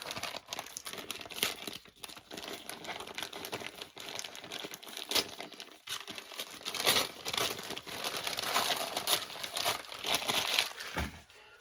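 Plastic and cardboard packaging from a Killer Klown mystery box crinkles and tears in irregular bursts while being unpacked, loud and close with rustling throughout.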